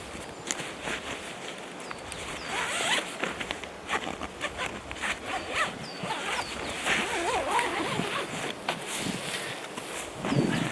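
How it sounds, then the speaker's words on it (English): A sleeping bag zipper is pulled in long rasping runs, repeated several times at close range alongside soft rustling of the fabric. "the zipper itself can run all the way around the shoulders"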